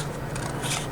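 A brief scrape of scissors slicing through paper, a soft rustling cut heard up close in one continuous stroke.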